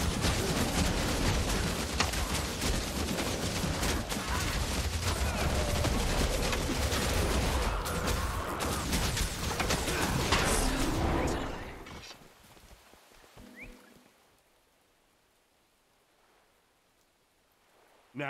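Bomb blasts in the Guild Wars 2 game, Path of Fire story, erupt in a dense, loud barrage of explosions and crackling debris for about twelve seconds before dropping to a quiet, fading tail.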